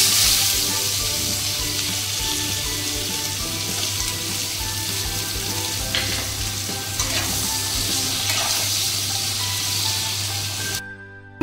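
Whole garam masala, a cardamom pod, cinnamon and chopped onion frying in hot oil, a steady close sizzle with occasional stirring scrapes, alone without talk, cut off abruptly at the end.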